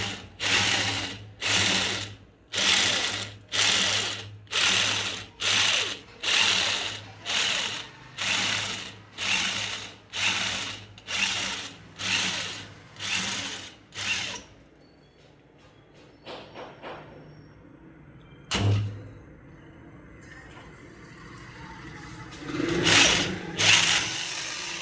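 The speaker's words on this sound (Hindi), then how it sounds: "यहाँ नज़दीक ड्रिल हो रहा है" A drill bores out the spark plug threads of a Honda CD 70 motorcycle engine in about fifteen rhythmic bursts, each a loud ratcheting whir, then stops, leaving a few scattered clanks and handling noises.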